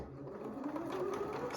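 A sewing machine stitches quilt pieces together in a quick, steady mechanical hum with a rising whir, close and continuous throughout.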